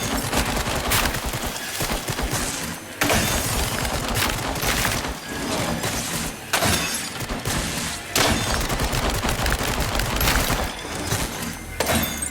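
Gunfire in the VR horror game The Dark Pictures: Switchback keeps up a loud, near-constant crackle of shots with shattering impacts, with sharp cut-offs breaking the barrage every few seconds.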